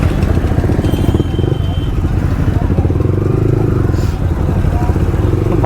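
A motorcycle engine runs loud and steady, close by, during a drag race ride between a V3 and an NS160, with an inline-four superbike also riding along. Its continuous throbbing drone carries rattling wind noise.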